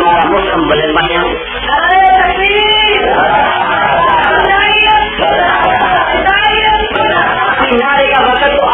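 A large crowd at a religious gathering raises a slogan together, a dense, loud, continuous mass of voices that holds steady for several seconds with only brief dips.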